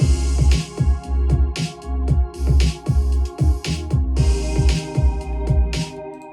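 A full beat loops with punchy bass kicks, crisp cymbals and sustained chords, steady and loud, with no voices.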